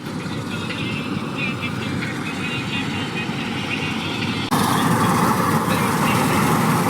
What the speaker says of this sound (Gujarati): જો કટર આપણી પાસે હાલી આવે છે.